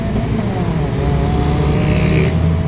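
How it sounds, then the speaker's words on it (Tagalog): A Honda Civic drives past on a brightly lit road in foggy Tagaytay, its engine a steady loud rumble close by, with a brief rising whoosh near the end as it goes by. "Honda Civic yun, no, mga boss."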